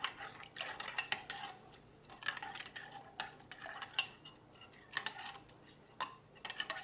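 A spoon stirs sugar and yeast into lukewarm water in a bowl for Trinidad hops bread, giving quiet, repeated clinks and scrapes at an uneven rhythm, close by and with no talk.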